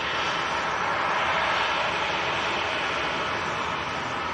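A Boeing 737 airliner taxiing slowly at Leeds Bradford Airport gives off a steady, loud engine roar and hiss that stays constant throughout, with no talk.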